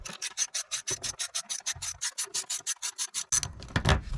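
A 9/32 ratchet turns out a screw on the side of a Chevrolet Silverado 2500/3500HD during a light bar install, a quick run of about twenty crisp rhythmic clicks, close and alone, then some handling noise at the end.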